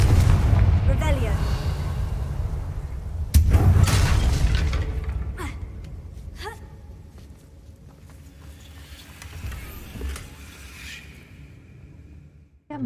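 Fiery Confringo blasting spell explosions in the game Hogwarts Legacy, a heavy booming burst with rumble and scattered crackling debris, a second sharp blast soon after, then fading clatter and smaller impacts.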